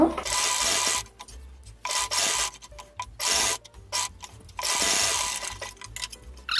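A sewing machine stitching a Punjabi dress, with single and double stitch runs, whirs in several loud bursts separated by short pauses.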